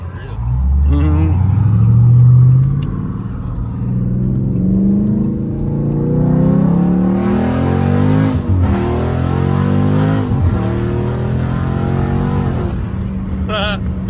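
A catless Dodge Scat Pack accelerates hard from inside the cabin, its loud exhaust climbing through repeated gear pulls with rising and falling engine sweeps, while occupants talk over the roar.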